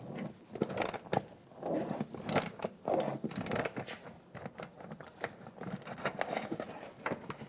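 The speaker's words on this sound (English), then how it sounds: "Using a 18mm socket, take the nuts off." A ratchet with an 18mm socket removes nuts while a 2007-2014 Cadillac Escalade ESV front shock and spring assembly is swapped. Quick bursts of ratcheting clicks and metal rattles repeat close by, with no talking.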